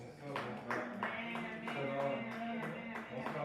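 A church congregation claps and cheers together in praise, a dense continuous patter of many hands with voices calling out over it.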